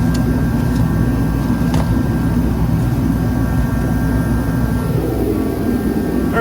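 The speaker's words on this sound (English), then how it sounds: "Hope you guys don't mind the noise of the turbo heater for right now," A turbo heater runs in a garage with a loud, steady roaring blower hum that fills the whole stretch, with a few faint clicks and knocks from work nearby.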